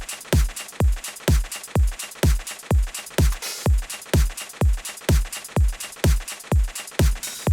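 Punchy electronic drum loop built from Dune film sound samples, a steady four-on-the-floor kick with layered top percussion and open hi-hat fills, loud and driving with no talk over it.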